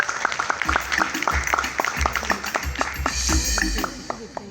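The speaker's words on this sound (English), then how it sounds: "Please, can we give him another round of applause?" A conference audience claps steadily, a dense patter of many hands with some brighter individual claps, continuing throughout with faint background voices.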